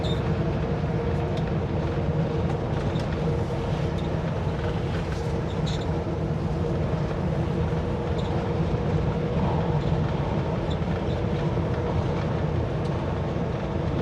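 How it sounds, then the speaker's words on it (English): A train rumbles past in a steady, loud low roar with rattling wheels and clatter, continuous throughout with no talking. "You could park here and watch the train go by."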